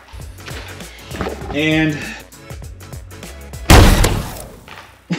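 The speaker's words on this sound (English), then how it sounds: "now I can fire all three darts" A Nerf blaster loaded with three darts fires them in one loud, close burst of air and clatter, coming after a stretch of talking and mechanical clicks.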